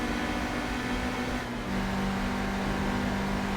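The engine of a Mazda MX-5 in a Gran Turismo 3 race gives a steady, droning buzz at high revs, with a brief dip and a climb back, loud and close, with no voices.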